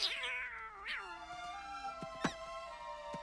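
A cartoon cat in an animated film lets out a long, drawn-out caterwauling meow that falls in pitch, followed by a few shorter yowls and scattered sharp effects.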